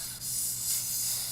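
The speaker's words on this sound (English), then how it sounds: "now that I'm editing this and watching it, look at that sizzle" Smash burger patties sizzle on a hot cooking surface, a continuous close, bright hiss with slight swells and no voices.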